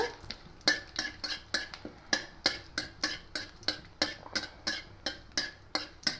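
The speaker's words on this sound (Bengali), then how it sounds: "ফোড়নের একটা গন্ধ বেরোনো আশা পর্যন্ত এভাবে নাড়তে থাকবো" Panch phoron and dried red chillies stirred in a pan make a regular rhythm of crisp scraping clicks, about three a second, over a faint frying hiss. Close and moderately quiet, no talking.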